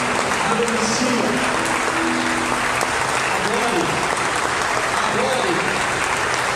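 Church congregation applauding during worship, a loud, continuous wash of clapping from a large crowd with voices calling out underneath.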